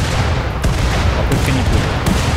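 A mortar shot in the video game RimWorld, a dense, loud burst of gunfire-like blasts with sharp cracks and low booms overlapping over a couple of seconds.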